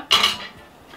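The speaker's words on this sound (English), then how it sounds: "we'll just spoon it around, mix it in" A spoon clinks once against a bowl while stirring lentils and pasta together, a short bright metallic scrape that fades quickly and is heard close and alone.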